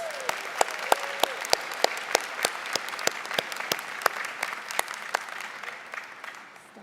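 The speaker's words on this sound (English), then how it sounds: "Let's give them another well-deserved round of applause." A convention hall audience at the American Legion Auxiliary National Convention applauds, with loud rhythmic unison clapping in steady beats that gradually softens and fades toward the end.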